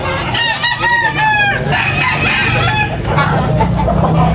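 Several roosters crow in overlapping calls at a rooster market in Tabunok, Talisay, loud and close, with clucking and farmyard chatter underneath.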